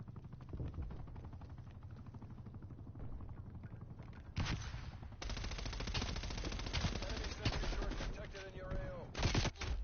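Rapid MP7 submachine gun bursts in Call of Duty: Cold War multiplayer, with dense cracking fire and booms, loudest in the second half, under occasional game sounds.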